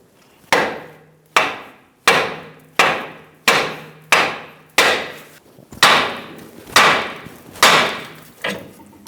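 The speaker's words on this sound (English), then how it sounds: "Using a hammer, we're going to hit the side of the knuckle and pop the ball joint out." Hammer blows striking the side of a steering knuckle to pop out the ball joint on a 2010-2014 Subaru Outback front suspension, eleven sharp metallic hits at a steady pace of about one per second, each ringing briefly then decaying.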